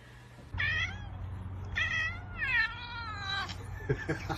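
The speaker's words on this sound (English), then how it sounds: "that cat was just yawning" A cat gives three long, drawn-out yawning vocalisations, close and fairly loud, each rising and bending like a stretched meow, followed by a few soft clicks at the end.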